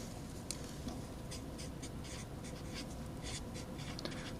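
Marker or chalk writing on a board, a run of quick scratchy strokes and taps close by, fairly quiet against a steady background hiss, with no voices.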